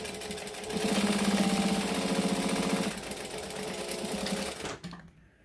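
A sewing machine runs a line of top stitching, its needle chattering in a fast steady mechanical rhythm that speeds up briefly and then continues before stopping abruptly near the end, close and without talk.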